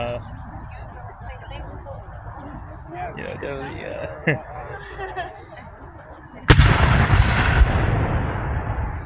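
Cannon fire at an outdoor Civil War battle reenactment at Old Bedford Village: one sudden loud boom partway through with a long rumbling tail, after a faint thud earlier, and people talking through the crowd noise.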